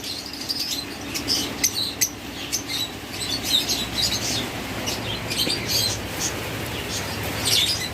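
Pet lovebirds, cockatiels and budgerigars of local close-ring breed chirp together in cages, a busy overlapping chatter of high tweets over a steady low background hum.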